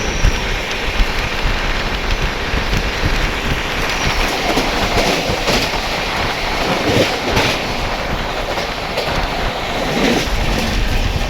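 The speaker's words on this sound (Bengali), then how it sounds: "সাউথ ইন্ডিয়ার লোকাল ট্রেন," A Karnataka local train rolls past in southern India, its loud, steady rumble and rhythmic clickety-clack of wheels on rail joints filling the whole stretch without pause.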